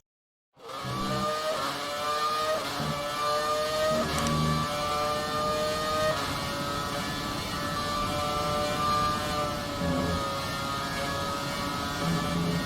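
McLaren MP4-23 Formula 1 car from 2008 racing in the F1 2019 video game, its engine starting suddenly and then screaming at high pitch with repeated gear-change dips and rising revs, loud and continuous with no talk.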